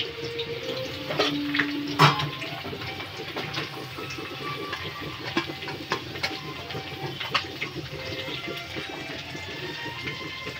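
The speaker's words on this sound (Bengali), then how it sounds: "পেঁয়াজগুলো একটু হালকা লাল লাল করে ভাজা হবে।" Onions frying in hot oil over whole spices such as chilli, cinnamon and cardamom in a home kitchen, a continuous crackling sizzle with scattered sharper pops and a clink near the start.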